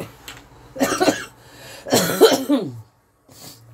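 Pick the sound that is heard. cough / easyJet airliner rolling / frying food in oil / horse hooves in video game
cough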